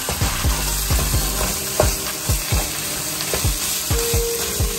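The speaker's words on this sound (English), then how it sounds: "Cook it just like you would regular ground beef" Impossible brand vegan ground sizzles in a pan, the steady frying hiss broken by rhythmic scraping knocks as a utensil breaks it up, close and continuous.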